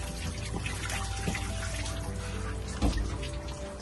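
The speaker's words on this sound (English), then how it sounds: "Got water coming out of my heat exchanger." Water runs out of the heat exchanger of a Volvo Penta inboard marine engine while it is flushed with a hose, a steady, close splashing flow with a brief louder gush near the end.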